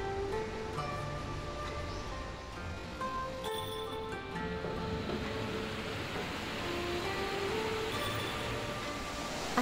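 A mountain stream flows past an outdoor footbath at a hot spring inn in Fukushima, a steady, soft broadband rush of water heard from a little distance, with faint tonal sounds drifting above it.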